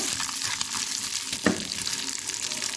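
Raw peanuts roasting with a spoonful of butter in a pan, giving a steady close sizzle and crackle with scraping stir sounds throughout and one sharper clink midway.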